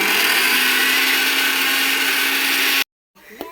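A kitchen mixer grinder runs with a loud, steady whirring roar for nearly three seconds, then cuts off abruptly, followed by a brief faint clatter.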